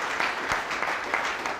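A theatre audience applauds after a stage play, a dense steady patter of many hands clapping at moderate distance, continuous throughout without speech.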